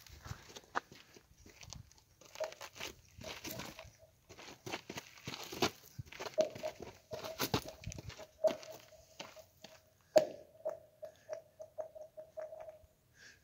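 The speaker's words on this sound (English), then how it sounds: "the sound you're hearing is the sound of not very thick ice" Rocks land on thin ice over a frozen mountain reservoir at night, producing scattered cracks and crunches with faint ringing, pinging tones that sing across the ice, quiet and somewhat distant.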